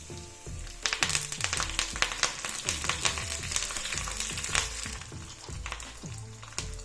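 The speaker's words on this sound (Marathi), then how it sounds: "आता तीन चार पाकळ्या लसणाच्या आणि कोथिंबीर टाकणार आहे कढीपत्ता टाकायचा" Garlic cloves, fresh coriander and curry leaves crackle and sizzle in hot oil as a tempering for dahi kadhi, a dense, steady frying hiss with sharp pops and spits throughout, close and fairly loud, with no talking.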